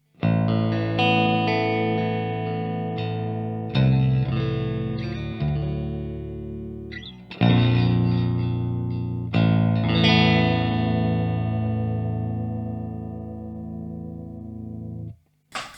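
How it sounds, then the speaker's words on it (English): Clean baritone Jazzmaster electric guitar in middle pickup position, playing sustained chords and low notes, each strum ringing out and decaying, with a few pauses between phrases. "Baritone, Jazzmaster, middle position. This is the clean sound."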